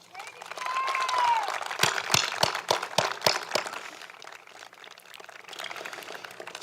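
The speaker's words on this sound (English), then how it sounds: "So let's give them a round of applause." A school district graduation audience breaks into applause, building to a thick wash of clapping with a few sharp close claps standing out before it thins and then swells again slightly.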